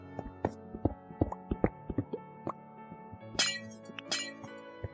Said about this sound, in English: Glass is coming out of these completely.